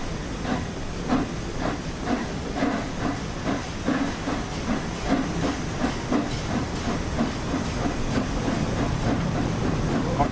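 Steam locomotive, the Scotsman, running in the railway game Train Sim World 4, giving a steady hiss with a rhythmic chuffing beat throughout, moderately loud with no speech.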